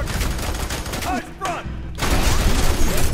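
Dense gunfire in the F.E.A.R. 3 video game, a loud continuous barrage of shots with a brief lull near the middle before the firing resumes at full force.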